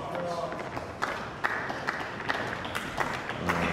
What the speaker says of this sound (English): There's some applause in the crowd